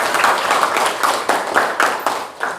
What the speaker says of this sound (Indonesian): Kasih aplaus untuk kita semua